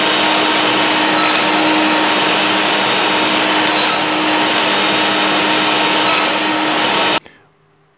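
A Bosch GTS 10 XC table saw runs steadily while cutting small pieces of wood, a loud continuous motor whine with faint cut surges. It stops abruptly near the end, leaving near silence.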